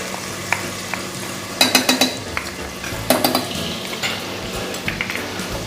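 Ginger garlic paste fries in hot oil with vegetables for a soya chunks biryani, giving a steady close sizzle broken by sharp spoon scrapes and clanks against the pot.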